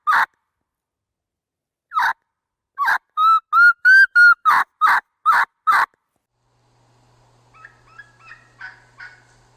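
A hunter's turkey call mimics a lost young turkey, giving a series of sharp, loud yelps and whistled kee-kee notes in quick rhythm, close and alone, followed by softer distant-sounding calls.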